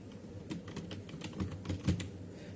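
Typing on a computer keyboard while entering text into an Excel spreadsheet, a quick run of close key clicks at an uneven pace, with no talking.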